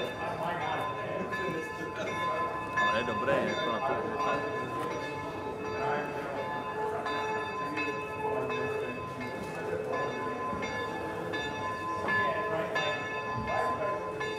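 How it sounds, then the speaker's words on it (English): A church tower bell cast from tourists' love locks, rung by motorised engines, sounds repeated bright metallic strikes with long ringing overtones, while people talk nearby. "today we used engines for bell ringing"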